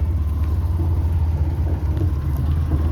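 A vehicle rolls slowly along a forest road, a low steady engine rumble and idle-like hum close by, continuous and without speech.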